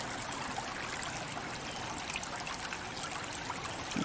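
A forest brook flows steadily, its water trickling and rushing in a continuous close wash with no voices.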